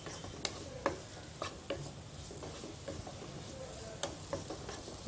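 Lentils roast in ghee while being stirred, a soft, faint sizzle broken by repeated light scrapes and taps of a spoon against the pan at an uneven rhythm.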